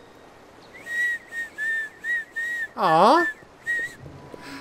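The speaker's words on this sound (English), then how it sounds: "I whistle." An animated cartoon pony whistles a short tune of about eight clear notes, several in a bouncy rhythm, with one longer sliding warble in the middle; a brief soft vocal sound is heard near the end.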